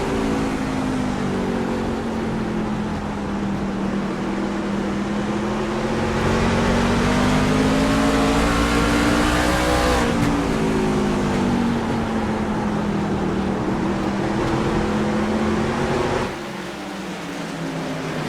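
A race truck engine in an iRacing sim race holds a steady drone from an onboard view along the back straightaway, its pitch dipping and rising slightly, then dropping off near the end.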